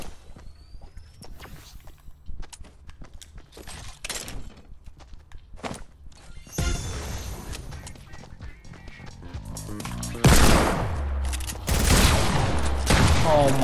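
Gunfire in the Fortnite video game hitting the player, bursts of shots and crashing impacts among footsteps and game noise, growing louder and denser toward the end.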